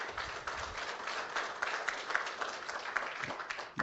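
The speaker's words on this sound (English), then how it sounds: "Let's give a round of applause for our sponsors." Applause from the audience at a cloud security meetup for the sponsors comes as a moderate, fairly quiet patter of many hands. It runs steadily and thins toward the end.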